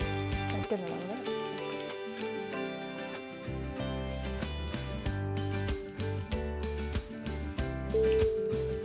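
Mustard seeds and fenugreek sizzle in hot oil as a steady, close frying hiss, with music playing over it.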